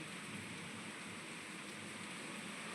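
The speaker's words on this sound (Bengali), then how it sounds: "প্রায় প্রায় এক মাস ধরে যেন এই বৃষ্টি চলছে কবে যে কমবে কবে যে থামবে" Steady, faint rain falls continuously during a long monsoon spell in Steel Township, Durgapur, a dense even hiss with no talk.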